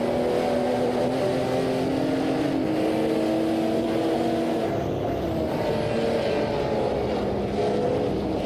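Race car engines of a Honda NSX GT2 LM and a Lamborghini Diablo in a racing video game. A steady, loud, droning roar with shifting tonal whine holds throughout, with no speech.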